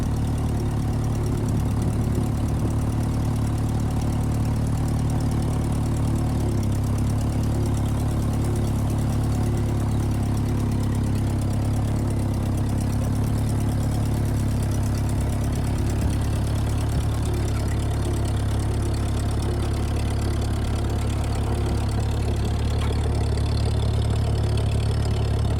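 A 1951 Ferguson TEA20 tractor engine runs steadily while driving in second gear, a constant low, throbbing chug that stays loud and close throughout with no talking.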